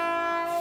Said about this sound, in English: Fucking trains.